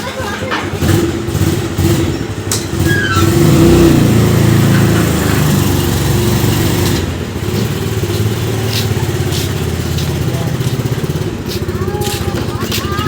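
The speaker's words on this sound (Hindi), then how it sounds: "गाड़ी बाहर निकाल दी है" A car engine runs steadily and fairly loud as the car is driven out of a house, with a low rumble that rises slightly partway through, while people talk over it.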